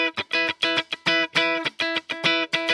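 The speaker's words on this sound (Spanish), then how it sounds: "Así suena mi guitarra sin el compresor." An electric guitar runs through an Ampero Stomp multi-effects unit with the compressor off, playing a quick rhythmic run of short bright picked notes with uneven attacks, alone.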